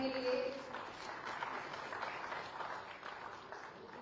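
Audience applause at a security leadership summit award presentation in India, a sustained wash of clapping from a large hall, fairly faint and distant, with a brief tonal sound at the start.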